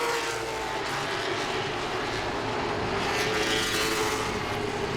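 Late model race cars roar past at Langley Speedway, a steady loud engine drone that holds for the whole stretch with a slight swell near the end.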